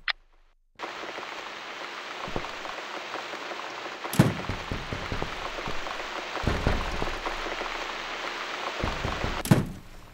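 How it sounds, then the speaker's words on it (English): Steady rain patters on a surface in the horror game The Cat Lady, a dense close hiss broken by a few dull knocks and two sharp bright clicks, with no one speaking. "The rain is kinda noisy and creepy, to be honest."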